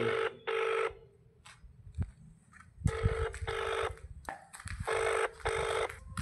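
An electronic telephone ringtone in repeated bursts, broken by a short pause and a few clicks, fairly quiet and without voices.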